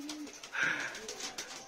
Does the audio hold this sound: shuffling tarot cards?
no